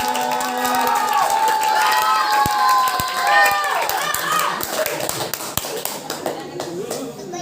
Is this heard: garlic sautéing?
no